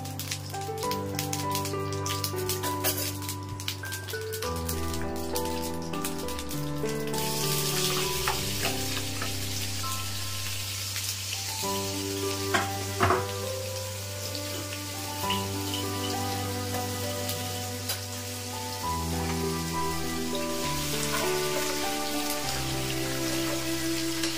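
Fish goes into hot oil in a frying pan for potol chingri bharta, setting off a loud, steady crackling sizzle that lasts throughout, with music playing underneath.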